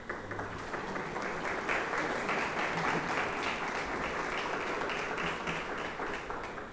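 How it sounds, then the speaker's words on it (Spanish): Audience applause for guests at a youth and municipal elections panel discussion, a dense, steady crowd clapping filling the hall for several seconds without letup. "Les damos un fuerte aplauso"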